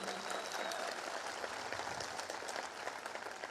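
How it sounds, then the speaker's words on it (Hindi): Enthusiastic applause from an assembled crowd in Varanasi welcoming first-time attendees at a gathering; thick, even clapping heard from some distance, continuing steadily without pause or speech. "जोरदार तालियों से उनका स्वागत"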